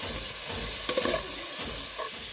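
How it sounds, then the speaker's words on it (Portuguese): Onion fries in oil with salt and crushed garlic in a pan on a charcoal stove, giving a continuous close sizzle with a brief scrape of stirring near the middle. "Aqui já tá um pouquinho de óleo, já tá a cebola fritando"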